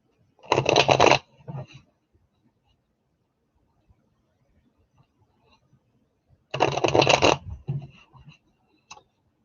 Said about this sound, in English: Let me just give it a couple of shuffles.